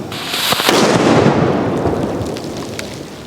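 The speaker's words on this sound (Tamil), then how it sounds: "பேப்பர் கலர் பாம் ப்ளஸ் பார்த்தீங்கன்னா ஆட்டம் பாம் ரெண்டையும் கொளுத்த போகிறேன்" Paper colour bomb and atom bomb firecrackers go off at night in a loud, sharp burst followed by a long rumbling, crackling roar that slowly fades over several seconds.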